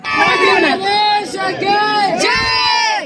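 A crowd of devotees at the crowded Khatushyam temple on Rang Panchami loudly chants devotional jaikara cheers in rhythmic unison, with long sustained group shouts repeated several times.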